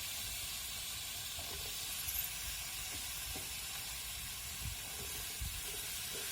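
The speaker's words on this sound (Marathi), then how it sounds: "आपल्याला त्याच्यात जेवढे भाजी टाकायच्या तेवढ्या स्वच्छ धुवून टाकून द्यायचे" Washed vegetables, including eggplant, potatoes and peas, sizzle in a pan of fried spices, giving a constant close hiss with faint occasional stirring scrapes.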